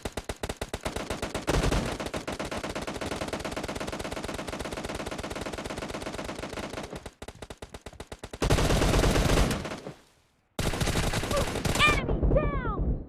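Rapid gunfire from a sniper shooting video game, with dense sustained bursts of automatic fire, a brief break, then more loud shots fading into ringing tails.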